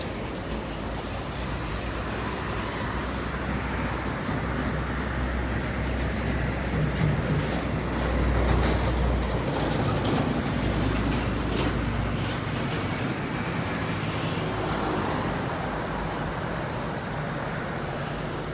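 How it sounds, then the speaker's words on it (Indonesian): Laju Prima intercity buses pull in at the ticket office by an Indomaret stop on the Jambi–Palembang–Bandung route, a continuous low engine rumble and traffic noise swelling briefly midway, with no talk over it. "ada bus laju Prima baru masuk"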